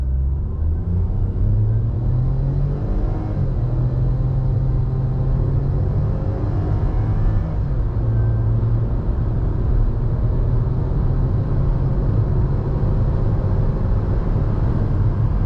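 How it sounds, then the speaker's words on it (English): A 2021 Ford EcoSport accelerating from inside the cabin, a loud continuous engine drone that rises and drops as the transmission shifts through gears, with steady road rumble beneath. "we'll see how the transmission shifts and everything going through the gears"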